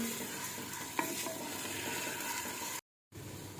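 Steady close sizzling of garlic-ginger paste with crushed red chili browning in a hot pan, with occasional soft stirring scrapes and a brief dropout near the end.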